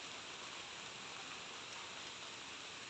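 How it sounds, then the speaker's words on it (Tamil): Heavy rain pouring down on a rooftop terrace vegetable garden, a dense, even roar of rainfall that holds steady throughout, near and loud, with no voices. "மழையும் நல்லா பெஞ்சிட்ருக்கு பெரிய மழை வர்றதுக்குள்ளே சீக்கிரம் அறுவடை பண்ணிடலாம் வாங்க"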